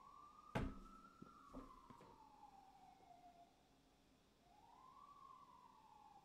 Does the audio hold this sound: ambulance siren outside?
yes